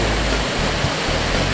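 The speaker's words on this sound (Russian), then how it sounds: "Красивый каскад водопадиков." Cascade of small waterfalls beside a mountain hiking trail, a loud, steady broadband rush of falling water filling the whole clip with no voices.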